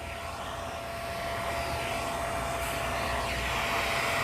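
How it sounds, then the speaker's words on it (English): A pet grooming vacuum runs continuously with a steady whirring drone that grows a little louder partway through, heard up close with no talking. "Let's turn that vacuum up."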